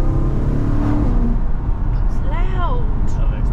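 A car engine and exhaust drone loudly from inside the cabin through an open window while driving through a built-up area, with a steady rumble and a rising pitch, and a voice speaking briefly over it.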